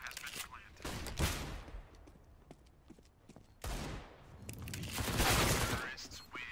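Counter-Strike action on Cobblestone: bursts of gunfire and a flashbang's sharp pop and bright ringing hiss, in several loud clustered episodes with quieter gaps between them.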